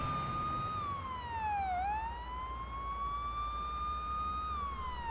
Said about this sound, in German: Blaulicht und Martinshorn.